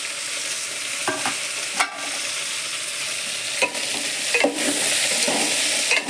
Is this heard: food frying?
yes